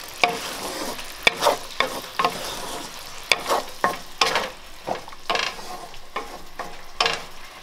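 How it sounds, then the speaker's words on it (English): Kabocha squash stir-fried over high heat with salt and white pepper, a constant sizzle broken by a rhythmic series of scraping, clattering stirs in the pan, close and loud, no talking. "I'm gonna give this a mix again and turn the heat to be high"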